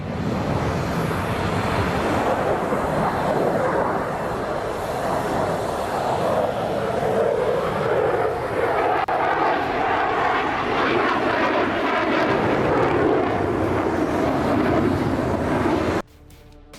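An Indian-built Tejas light combat fighter jet roars loud and steady for about sixteen seconds with wind buffeting the microphone, then cuts off abruptly.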